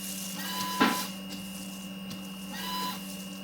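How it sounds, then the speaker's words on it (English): A washer fluid pump on a 2016 Mercedes GLC 300 runs as a steady electric hum, with a short louder spray burst near the start and a faint swell later, with no one speaking. "Looks good, the pump works."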